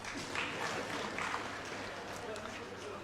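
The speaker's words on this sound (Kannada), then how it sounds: "ಗಂಡಸರು ಚಪ್ಪಾಳೆ ಹೊಡಿಬೇಕು ಇದಕ್ಕೆ" An audience at a Kannada stand-up comedy show bursts into steady, dense applause that holds for about three seconds, with a few spoken voices mixed in.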